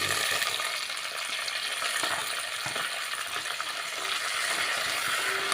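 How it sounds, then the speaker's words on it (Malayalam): Chopped onions and a green chilli sautéing in a pan for a kurkka curry, a steady close sizzle with scraping stirs and light metallic clinks, no talk. "ഇതെല്ലാം കൂടെ നമുക്ക് നല്ലപോലെ ഒന്ന് വഴറ്റിയെടുക്കണം."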